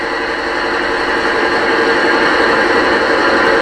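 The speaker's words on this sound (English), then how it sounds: "that's the sound of the roof fans" Roof fans on an Accurascale Class 55 Deltic model locomotive give a steady, even whirring hiss that holds at a constant level throughout, close and alone.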